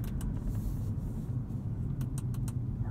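Audi S4 with a 3-liter V6 in sport mode, a steady low engine rumble heard from inside the cabin, with faint clicks and ticks over the continuous drone.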